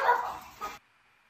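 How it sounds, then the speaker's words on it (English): A dog barks at a mail carrier dropping letters through a door slot, heard as a played recording: two short, sharp barks close together, then silence. "How about Odie barking at the mailman dropping mail through the slot?"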